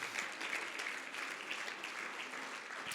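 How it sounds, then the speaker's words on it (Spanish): A church congregation applauding during a worship service, steady dense clapping throughout, moderately loud with no voices above it. "Dele una ofrenda de palmas al Señor."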